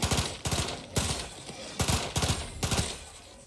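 Gunfire in Outer Worlds 2: several loud, close bursts of shots, each a quick cluster of three cracks, repeating in an uneven rhythm with no talking over them.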